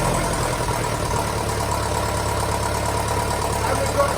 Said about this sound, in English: we'll try and just run her up without the radiator on